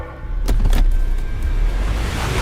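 A car approaches a roadblock and comes to a stop, its engine rumbling loudly and close with a brief mechanical whir partway through, no voices over it.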